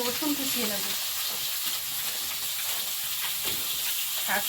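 Spices sizzle and crackle in hot oil in a pan, a steady close frying hiss lasting throughout with occasional stirring scrapes.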